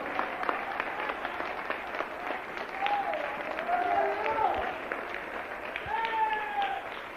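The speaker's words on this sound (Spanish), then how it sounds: "Denle un aplauso a Cristo" A church congregation applauds in praise of Christ during a Spanish-language service, dense steady clapping from a crowd with voices calling out and a singer's tones rising above it.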